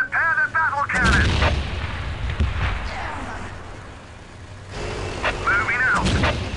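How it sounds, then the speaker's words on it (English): A Leman Russ tank's battle cannon fires in the Dawn of War strategy game, heavy booming blasts with rumbling battlefield noise and synthetic unit voice lines at the start and near the end. "Prepare the battle cannon."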